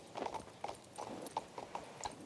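A horse's hooves clip-clop in King's Bounty II, a quick even trot of light knocks at moderate distance, faint and with nothing else over them.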